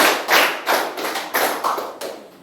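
Claps from a classroom counting clap game, a run of roughly six to seven claps that start strong and grow uneven and softer toward the end, close by with no voices.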